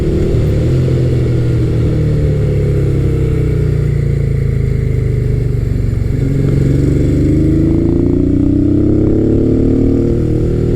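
A 1988–1991 Honda Hawk GT 650 motorcycle pulls hard and accelerates from low RPM, its loud continuous engine note rising through the gears and dipping once at a shift, with no talking.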